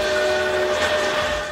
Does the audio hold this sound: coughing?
no